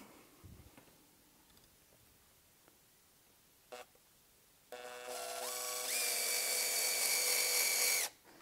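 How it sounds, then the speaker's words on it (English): Screws are driven into pre-drilled holes of a bracket. After a few light knocks, a power driver whirs up loudly for about three seconds with rising pitch, then stops. "And then I'll put my screws in."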